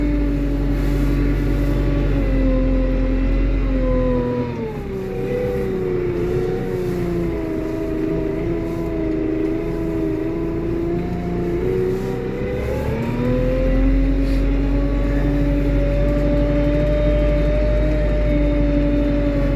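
A Lovol P4110 tractor pulling away during autumn ploughing work, heard from inside the cab: a steady, loud, close diesel drone whose pitch dips and climbs as it drives off, with no talking.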